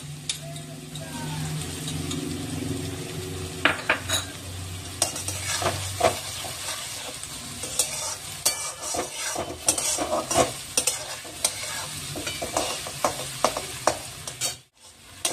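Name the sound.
frying and stirring onions with spices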